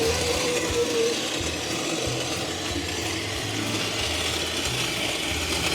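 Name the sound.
manual coffee grinder driven by a gate motor grinding coffee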